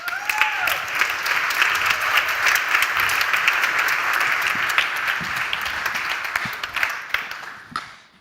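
Loud, sustained applause from an audience at an innovation closing ceremony as speakers come on stage, a dense clapping crowd with a faint whistle early, fading out near the end.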